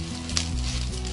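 Chopped onion hits a pan already holding garlic for ground beef stroganoff, raising a sudden close, loud sizzle that carries on as a steady crackle, with no talking.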